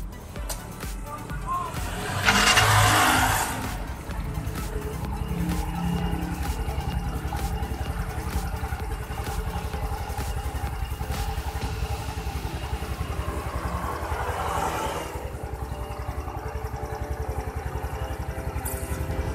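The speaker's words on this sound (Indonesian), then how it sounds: "Kita coba nyalakan mesinnya." An automatic scooter engine with a repaired fault of revving too high cranks and catches, then settles into a steady, rapid close idle that runs on under someone speaking.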